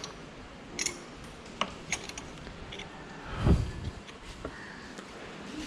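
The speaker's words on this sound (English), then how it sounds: "Loosen both the Allen key bolts." A breaker bar with an Allen key loosens the fork cap bolts on a motorcycle front fork, making scattered ratcheting ticks and creaks followed by one louder, heavier clunk, all close and fairly quiet.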